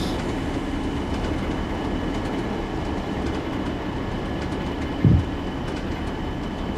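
A heavy loaded oil freight train hauled by a Class 40 locomotive rumbles downhill in Train Sim World 3, a steady low drone with faint wheel clatter and one brief louder thump partway through.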